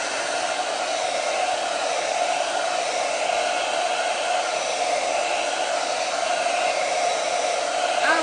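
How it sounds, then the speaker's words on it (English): Hair dryer blowing steadily on a freshly chalked chalkboard, a constant loud whooshing hum held unchanged throughout with no talk. "Let me blow dry it and I'll show you."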